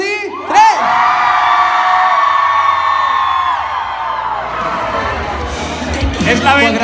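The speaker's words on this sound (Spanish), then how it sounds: "Vamos a gritar todos, ¿vale?" Crowd of fans at a record signing in Donostia-San Sebastián shouting together in one loud, sustained cheer, with whoops and yells that fade and rise again near the end.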